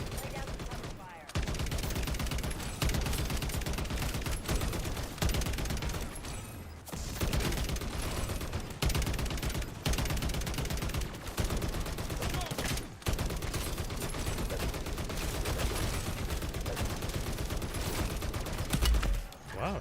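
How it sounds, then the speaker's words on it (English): Cover gunfire in the video game Call of Duty MW3 during a Walking Dead event boss fight, with dense, continuous automatic bursts and explosions broken by a few brief gaps, loud and close throughout. "Lay down some cover fire."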